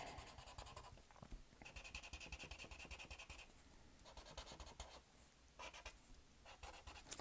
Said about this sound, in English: color all those in black or dark with your pencil